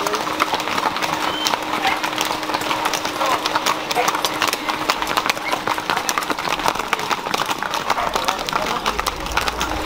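Horses' hooves clip-clop steadily on pavement in an anniversary parade of riders in Llera, Tamaulipas, a dense mix of many close hoofbeats with crowd voices and talk over the top.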